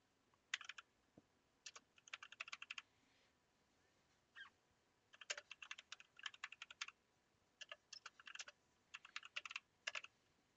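Fingers type on a computer keyboard in a garage, tapping in quick bursts of keystrokes separated by short pauses. The clicking is close and fairly quiet, with no one talking.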